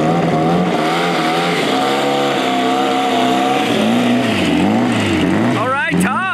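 A twin turbo drag car launches and accelerates down the track on a tuned fuel system, its engine roaring loudly and steadily as the pitch climbs and wavers through gear changes, ending in a sharp rising whine.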